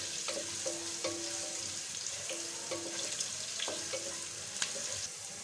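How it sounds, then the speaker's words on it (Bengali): Thickly sliced onions frying lightly in oil for pulao khichuri, giving a faint, even sizzle with a few soft clinks of stirring and no voices. "এইটা আমি হালকা ভাজা ভাজা করে নিবে।"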